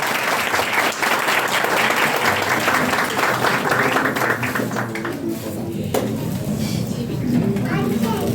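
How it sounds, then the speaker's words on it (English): Audience applause welcoming a speaker at a personality and leadership development workshop, dense steady clapping across the whole stretch with a murmur of voices underneath. "Do please welcome him by our clapping."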